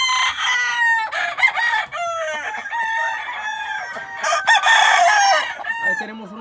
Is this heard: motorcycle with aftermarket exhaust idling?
no